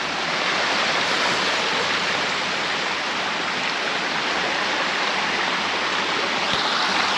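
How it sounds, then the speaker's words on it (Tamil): A stream flowing on a mountainside near Hallstatt, a dense, loud, unbroken rush of water filling the whole clip, close by with no talking. "பார்த்தீங்களா வாட்டர்"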